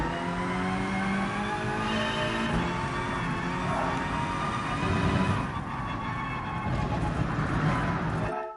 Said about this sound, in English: I'm really trying to just push the car to its limits.